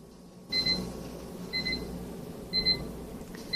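A kitchen timer beeps in three evenly spaced bursts plus a fourth starting at the end, each a bright double-toned chirp, heard over a steady low background rumble from a stovetop pressure cooker setup.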